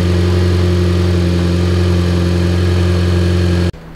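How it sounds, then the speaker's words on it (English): A 2008-2015 Mitsubishi Lancer Ralliart engine with a freshly installed AEM intake runs close up with a loud, steady droning hum, then cuts off abruptly near the end. "go ahead and start the car up. Just go ahead and give it a couple revs for me."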